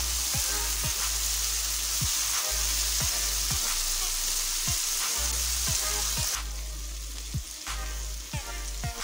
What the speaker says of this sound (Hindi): ये मसाला हमारा भुनने वाला है।